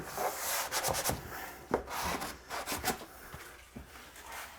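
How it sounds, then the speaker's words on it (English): Light hand sanding over oil-based primer on kitchen trim makes soft irregular rubbing strokes, close and quiet, in short scratchy bursts with brief pauses. "Sand your oil-based primer here for the silicone. Just a little light, make sure you don't have any bumps there."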